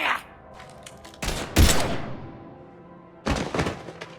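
Gunfire in the Mass Effect 3 video game: several loud broadband bursts, with a sharp blast near the middle and another cluster of shots toward the end over quieter background.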